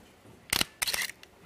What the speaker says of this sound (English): Listen to the shutter.